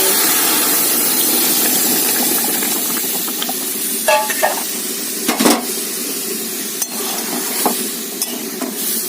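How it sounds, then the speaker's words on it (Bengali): Spice tempering (phoron) sizzles as it is poured into dal, giving a steady close frying hiss with a few sharp crackles and clinks toward the end and no talk. "ডালটা ফোড়ন দিয়ে দেবো"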